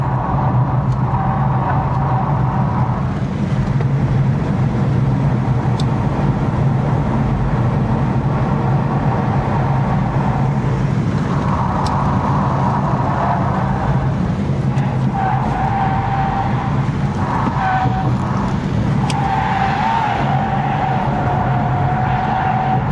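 A cheap electric car on snow tires laps a race track, with its tires squealing and skidding almost nonstop through the corners and a steady road roar underneath, close and loud.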